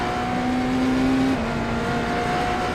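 Race car engine on the track at Sebring during an IMSA event, a steady loud drone with a sustained tonal whine that shifts pitch partway through, no voices.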